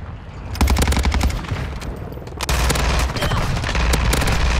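Rapid automatic gunfire from the Cronen Squall rifle in Modern Warfare 2, loud and close, in sustained bursts with a short pause around the middle, no talking over it.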